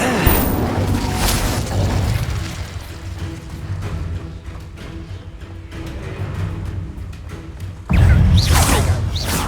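A fire spell blasting during a hectic fight in the video game Hogwarts Legacy: deep booms and whooshing bursts over continuous combat noise, ending in a loud final blast.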